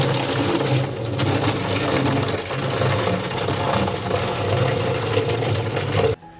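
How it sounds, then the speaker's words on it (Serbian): Strained ash solution is poured from a container into a clean bottle: a steady, continuous stream of liquid over a low background hum that runs for about six seconds, then cuts off abruptly. "I proceđen rastvor sipaću u čistu flašu."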